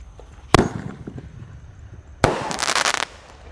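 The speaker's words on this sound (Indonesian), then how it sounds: "Bima Sakti siap meluncur." A Bima Sakti roman candle fires with a sharp launch bang, then after a pause a second loud burst follows, with a crackling, fizzing sputter trailing for about a second.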